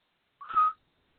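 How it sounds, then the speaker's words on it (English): A single short whistle in the woods, said not to come from a bird, rising briefly then cut off, clear and isolated against silence. "Just single whistles like that, and I know it is not a bird."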